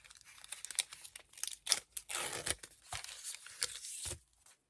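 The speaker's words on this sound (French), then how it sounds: "ouvrir donc notre dernière pochette du jour" Panini Disney sticker packet being torn open by hand, close crinkly tearing and crumpling of foil wrapper in quick bursts, fairly quiet with no talking.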